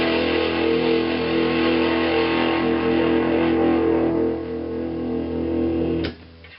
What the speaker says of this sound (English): Kick in the drive.